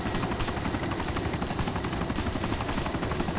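Helicopter in the game DayZ, its rotor thumping loud and constant at close range with a dense, steady engine drone, no pauses across the stretch.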